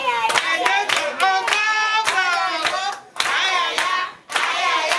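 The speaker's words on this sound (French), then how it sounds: "Il faut l'applaudir." Guests at a customary wedding in Bacongo clap loudly and continuously, with dense rapid applause mixed with raised voices and singing, briefly dipping twice before resuming.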